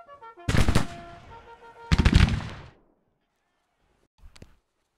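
Video game gunfire aimed at enemies, two dense rapid bursts of automatic shots over musical tones, then a short faint burst near the end.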